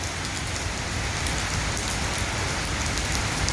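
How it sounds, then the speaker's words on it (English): Steady rain pours outdoors on a riding day with a Royal Enfield Himalayan adventure motorcycle nearby, a dense, continuous hiss of drops striking surfaces at close range, unbroken and even throughout with no voices. "See, it's raining."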